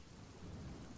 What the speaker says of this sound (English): It's super, super, super stormy out